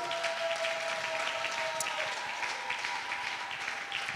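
A church congregation applauds together in sustained, steady clapping that fills the room at an even level, with a faint sustained tone running underneath.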